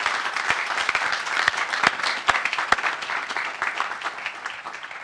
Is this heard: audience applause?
yes